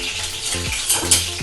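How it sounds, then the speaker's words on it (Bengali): Bay leaf and cumin seeds tempering in hot oil, a steady sizzle and crackle with a few metallic scrapes of a spoon stirring in the pan. "এবার আমি তেজপাতা জিরে ফোড়নটা দিয়ে দেবো।"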